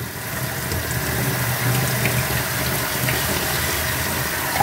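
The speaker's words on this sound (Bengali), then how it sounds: "দেখো জলটা এমনিই পড়ে যাচ্ছে।" Water pours steadily from a vegetable-washing gadget, a constant even rush with a faint low hum, close by and without talk.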